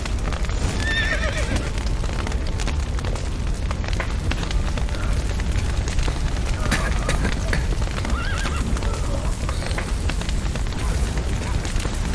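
Horses whinny and clop their hooves amid a burning, collapsing building in The Witcher 3, with dense, continuous noise of fire and commotion and voices shouting over it.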